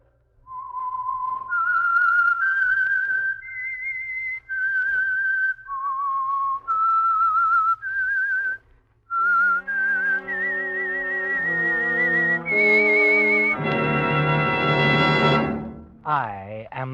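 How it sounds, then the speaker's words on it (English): A whistled signal theme opening the old-time radio mystery show The Whistler, a lone melodic whistle rising and falling clearly over roughly eight seconds, then swelling into a loud orchestral music sting. "That whistle is your signal for the Signal Oil Program"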